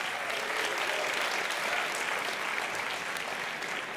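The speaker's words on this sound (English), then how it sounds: "I'm glad you're applauding" A large audience at a university convocation ceremony applauds, a dense, steady roar of clapping that holds for the full length, loud and unbroken.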